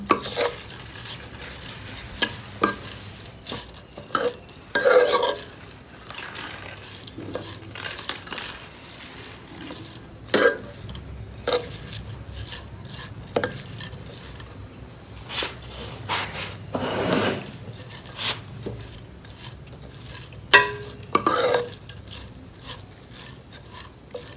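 Grated carrots cooking in a pan for carrot kheer are stirred with a spoon, giving repeated scraping strokes and light sizzling in an irregular rhythm, close and fairly loud, with no talking.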